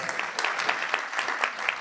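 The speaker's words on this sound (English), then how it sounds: "Another round of applause." Audience applause at a university alumni weekend event honoring guest speakers and a moderator, a steady moderate patter of many hands clapping with slight surges, heard alone without talk.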